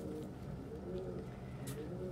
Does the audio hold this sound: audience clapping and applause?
no